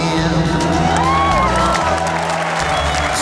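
A studio audience on an Australian football TV show cheering and applauding: a steady, loud wash of clapping mixed with whoops and shouts, sustained throughout.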